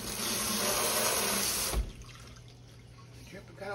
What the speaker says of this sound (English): Got all that water running, can't hear nothing.